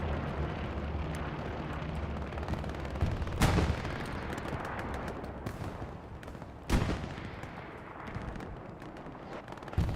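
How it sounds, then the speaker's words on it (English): MG42 machine gun fire rattles through a competitive Hell Let Loose match. Sharp, loud bursts punch out twice over a dense bed of distant battlefield gunfire and rumble. "just blasting him with the MG42"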